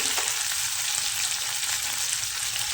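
Chopped onions dropped into hot oil in a pan, a bright steady hiss of frying that stays loud and even, with a brief clatter at the start.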